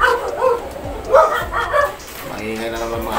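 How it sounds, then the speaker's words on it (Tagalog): Several dogs bark and yip repeatedly in the background near a spider-fighting session, with a few whimpers, heard under someone talking. "Maingay na naman mga aso na yan."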